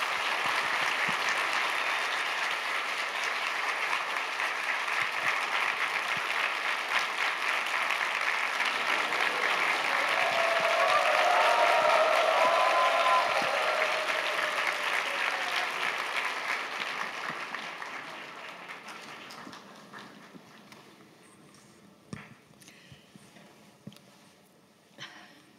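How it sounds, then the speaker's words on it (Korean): Sustained audience applause in a church hall welcoming a visiting professor at a youth retreat, steady and full for about eighteen seconds before fading out to quiet scattered sounds. "우리 교수님 환영하는 마음으로, 존경하는 마음으로 큰 박수로 모시도록 하겠습니다."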